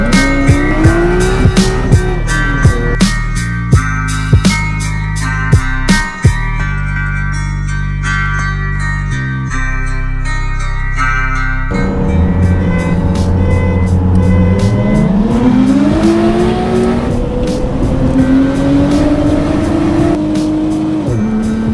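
Nissan Skyline GT-R R33 and R34 racing from a standing start, loud engines revving hard through gear changes with rising pitch sweeps and chirping tire squeal, close and continuous throughout.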